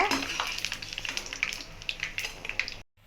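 Bread pieces sizzle and crackle in hot oil while being fried for bread halwa, a steady bubbling hiss with small pops that cuts off abruptly at the end.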